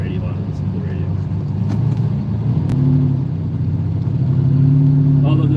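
A Lamborghini Countach engine hums and rises while driving, a low steady rumble that builds slightly toward the end, with someone talking over it throughout.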